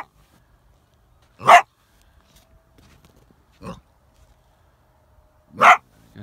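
A coyote caught by both front feet in a trap gives three short, sharp bark-like yelps, spaced a couple of seconds apart, loud and close against near silence.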